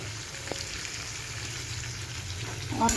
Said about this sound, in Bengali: এইটাকে কষাচ্ছি আলু শালগম দিয়ে একদম কচি শালগম